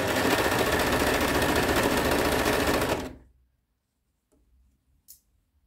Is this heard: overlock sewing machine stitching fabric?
yes